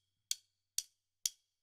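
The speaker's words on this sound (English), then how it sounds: "this is the sound of the Kuppmen carbon fiber sticks" Three crisp, bright stick strikes land at an even pace, each a sharp click with a quick decay and silence between.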